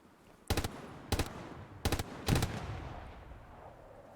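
Machine gun fire in a video game, four short rapid bursts spaced about half a second apart, fairly close and sharp, with a fading echo after the last burst and no voices.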